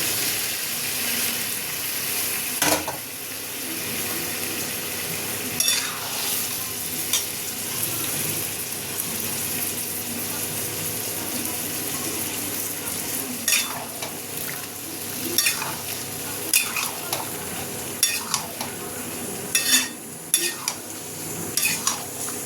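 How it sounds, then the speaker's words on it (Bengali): Boiled bottle gourd frying in a pan with spiced oil for a shrimp and gourd dish: a steady, close sizzle with repeated scraping stirs of a spatula against the pan. "এই যে লাউ সিদ্ধ করেছিলাম, এই ঢেলে দিলাম।"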